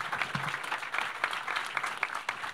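A crowd at a church service applauds for a Dallas grand opening, a steady wash of many clapping hands at moderate volume with a few sharper individual claps standing out.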